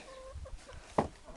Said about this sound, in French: Donc moi j'ai 9 poules et 2 coqs.